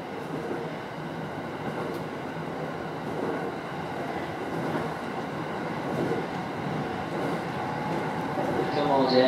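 A Japanese JR commuter rapid train bound for Tokyo runs with a steady rumble and rhythmic wheel clatter, a recorded announcement voice speaking over the noise.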